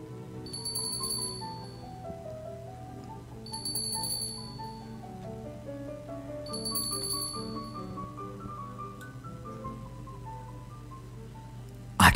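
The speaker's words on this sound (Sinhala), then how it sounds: "තැනැත්තා කැළඹීමකට පත් කෙනෙකු ලෙසින් සීනුව කිහිපවරක්ම නාද කළේය" A doorbell rings in three separate bright bursts, evenly spaced a few seconds apart, as an audiobook sound effect over a soft, continuous music bed.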